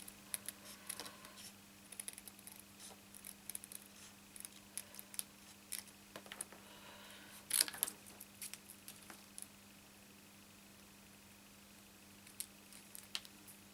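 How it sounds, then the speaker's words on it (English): Small paper snips cut through paper for card-making in quiet, irregular clicks and short cuts, with a brief louder crisp rustle midway, against a faint steady hum. "these little paper snips, these scissors, are absolutely super"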